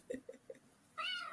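A cat gives a few short, soft chirps and then a longer, higher meow, close by in a quiet room with no voices.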